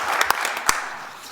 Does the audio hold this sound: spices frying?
no